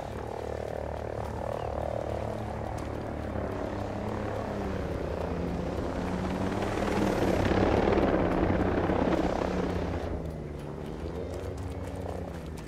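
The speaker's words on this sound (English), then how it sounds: "Chopper in the AO." An enemy helicopter in Ghost Recon Breakpoint throbs with a steady rotor chop, swelling louder as it approaches and then fading slightly, mixed with ambient jungle croaks.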